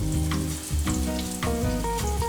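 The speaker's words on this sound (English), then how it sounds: "I'm gonna coat my tortilla in sauce and then put it in my pan, and you want it to sizzle like that." A sauce-coated tortilla for enchiladas sizzles loudly in a hot pan, a steady close crackle and hiss with faint stirring or shifting sounds, no voices.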